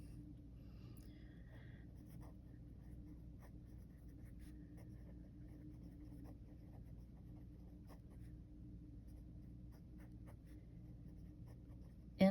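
Marker or chalk writing on a board during a geometry lesson on perpendicular bisectors of a triangle, faint scattered scratchy strokes over a steady low room hum, no talking.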